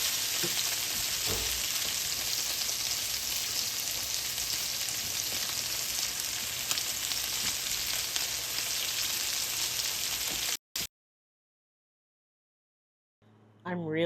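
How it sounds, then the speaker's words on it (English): Chicken searing in a frying pan for a cheesy chicken and bacon casserole, a loud continuous sizzle with stirring scrapes for about ten seconds, then sudden silence before a voice starts. "I'm just going to move it around so it all gets a nice sear everywhere and gets cooked"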